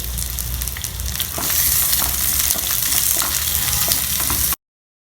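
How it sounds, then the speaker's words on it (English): Chopped onion and garlic fry in hot oil in a pan, a loud, close, continuous sizzle with crackles and faint stirring, ending abruptly. "Now the onion and garlic are getting fried there."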